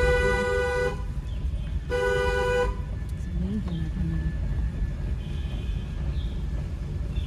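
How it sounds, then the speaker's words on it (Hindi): A car horn gives two loud, clear honks about a second apart during a driving lesson on a city street, followed by road traffic rumbling in the background. "हॉर्न"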